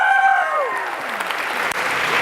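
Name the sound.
audience round of applause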